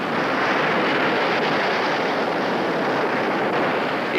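Ocean surf breaking on a Pacific shore, a loud, continuous roar of crashing breakers and churning water with steady wind, no voices over it.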